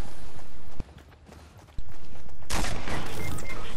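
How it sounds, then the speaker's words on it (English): Video game gunfire, with sharp single shots, a short quiet gap, then a dense loud burst of rapid shooting. "Oh, I shot the guy in the head with the skeleton suit."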